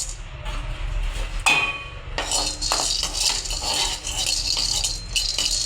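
Marathi mokku spice buds are dry-roasted in a hot pan, giving light metallic rattles and scraping clinks as they are stirred, with a sharper clank partway through.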